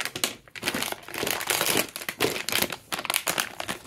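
Plastic packaging of Mr. Potato Head Squeezelings toys crinkled and handled up close, a busy, uneven run of rustling and crackling bursts with no voices over it.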